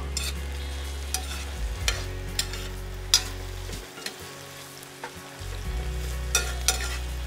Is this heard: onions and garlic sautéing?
yes